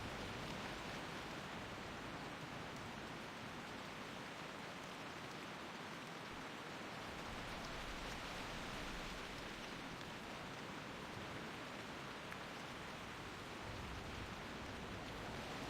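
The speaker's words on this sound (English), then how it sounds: "That rain is so loud." Heavy rain in the game World of Warcraft Ascension, a dense and steady roar of downpour that holds constant throughout with no breaks, loud and close.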